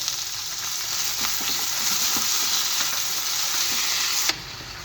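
Boiled capsicum and onions stir-fried with soy sauce for a beef chilli stir fry, a loud continuous sizzle with stirring clatter throughout, ending abruptly.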